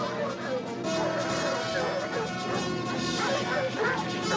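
Several dogs chasing a fox outdoors bark and yip rapidly and continuously, with excited overlapping barks and whimpers that fill the whole stretch at a fairly loud, close level.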